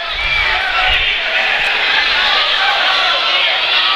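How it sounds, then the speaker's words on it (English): A large crowd at an MMA fight yells in a steady, loud roar of voices that fills the arena, with dull thuds faintly beneath it. "You can hear the crowd yelling every time one of those knees lands"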